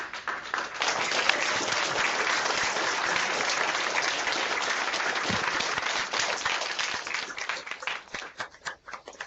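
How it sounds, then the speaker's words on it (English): Audience applause welcoming a Pro Football Hall of Famer at a speaking event, sustained dense clapping from a sizable crowd for about nine seconds, thinning slightly toward the end. "join me in giving a warm round of applause"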